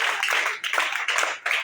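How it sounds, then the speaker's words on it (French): A church congregation at a French-language service applauds loudly and steadily, a dense wash of many hands clapping close by with brief dips in intensity. "Acclamons très fort pour notre Dieu."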